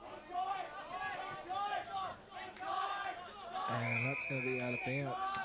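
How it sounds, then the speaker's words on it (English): Spectators at an under-14 boys' junior Australian football match yell and cheer loudly and continuously, while a commentator talks over them. "the crowd is actually beginning to get really vocal"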